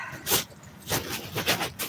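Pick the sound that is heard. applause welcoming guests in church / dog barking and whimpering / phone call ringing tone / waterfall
dog barking and whimpering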